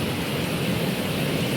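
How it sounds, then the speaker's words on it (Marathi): Heavy monsoon rain in the Sahyadri hills with water rushing over a bridge, a steady loud broadband roar with no pauses. "या बघा या पुलावर किती पाणी आणि त्यात पण लाटाभर मारतं."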